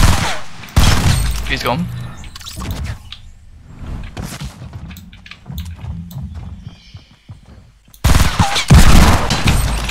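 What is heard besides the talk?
gunfire in the video game Fortnite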